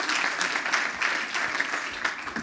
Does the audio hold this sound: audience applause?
yes